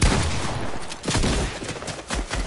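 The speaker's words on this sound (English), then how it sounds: "Who's shooting at me?" Rapid gunfire from the Fortnite video game: dense bursts of automatic shots cracking in quick succession, loud and close, with brief pauses between volleys and no talk.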